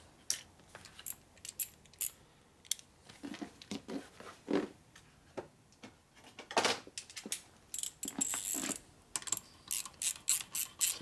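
A socket wrench ratchets on a Harley Shovelhead stroker big-bore motor build, with bursts of crisp clicking at close range, some quick and some slower, separated by short pauses and light metal handling.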